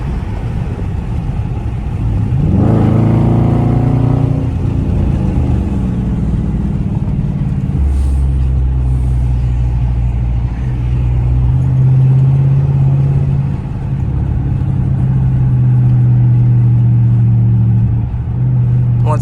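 A 5.7-litre Dodge Charger R/T V8 pulls hard with the windows down, a loud low engine rumble rising in pitch as it accelerates, then settling into steady cruising drone with wind and road noise.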